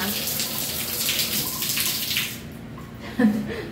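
Hotel room shower water runs in a steady, close splashing rush, then cuts off near the end, leaving a quiet room and a soft clunk.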